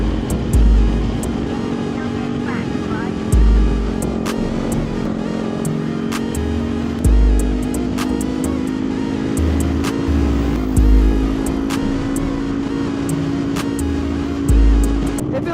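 Kawasaki Ninja 500 SE motorcycle engine drones steadily during a ride, with a continuous hum and periodic low rumbles of wind buffeting, plus scattered sharp clicks, loud and close with no talking.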